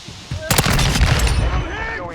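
Video game gunfire in a multiplayer domination match, a burst of rapid shots starting half a second in, followed by a sustained rumble of weapons fire and background game noise.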